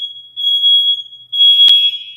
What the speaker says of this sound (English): Okay, that's our fire alarm.